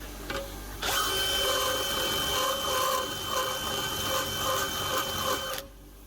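A power drill spins steadily to grind down a part during timing-chain work on a W212 Mercedes. The motor starts abruptly, holds a continuous high whine for several seconds, then cuts off.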